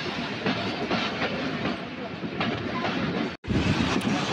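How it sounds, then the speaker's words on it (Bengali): The Varendra Express running between Rajshahi and Ahsanganj: a close, continuous rumble with rhythmic wheel clatter, cut by a brief dropout near the end. "ট্রেন ছুটে চলছে"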